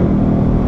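A Lexus IS F with a naturally aspirated V8 gives a steady, loud, close engine rumble with a dense low roar that holds level through a short burst, with no voices.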